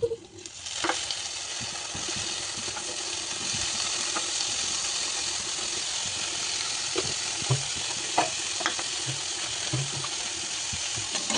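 Food pan frying in a little oil, a continuous soft sizzle with crackling spits and occasional stirring scrapes, close by and fairly quiet.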